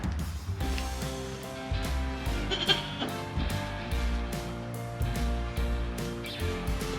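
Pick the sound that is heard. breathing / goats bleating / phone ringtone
goats bleating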